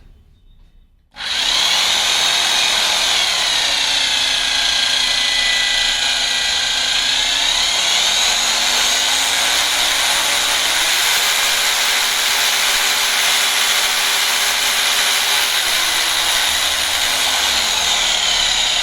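An Eastman EHD-026 rotary hammer drill starts abruptly after a brief silence and runs loud and continuous, its whine rising and falling in pitch as the variable speed changes.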